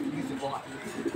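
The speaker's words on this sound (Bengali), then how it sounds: "এই যে এটি হচ্ছে নর কবুতর" A male Sobji racer pigeon gives a soft, low cooing close by, brief and muffled beneath someone talking.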